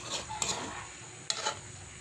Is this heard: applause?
no